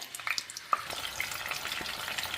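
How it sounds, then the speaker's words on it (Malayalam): Ground sauce sizzling as it fries in the oil left from frying chicken, a steady close crackle with a few sharp pops and stirring scrapes, no talking. "ഇനി നമ്മൾ ചിക്കൻ വറുത്ത എണ്ണയില്ലേ അതിലേക്ക് തന്നെ നമ്മൾക്ക് നേരത്തെ അരച്ചിട്ട് വന്ന സോസ് ഇല്ലേ അത് ഇട്ട് കൊടുക്കാവേ"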